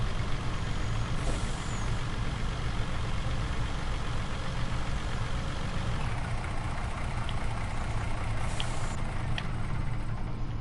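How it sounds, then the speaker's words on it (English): A truck in Farming Simulator 19 rumbles with a loud, steady diesel engine drone, broken by hissing air-brake bursts near the start and again later on. "I do love this truck."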